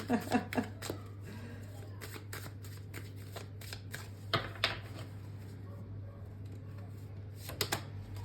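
A tarot card reading, with cards shuffled and drawn close up: quick flutters of riffling and snapping cards at the start, then scattered slaps and flicks as single cards are laid down.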